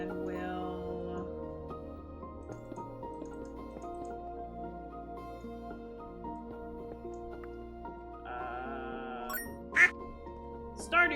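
Quacking duck alert from Stardew Valley, short nasal quacks near the end over soft game music during a stream.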